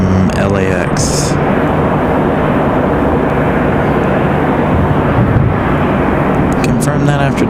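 A Delta airliner arriving at Raleigh-Durham airport roars with a loud, continuous wash of engine and rushing air, and someone talks over it.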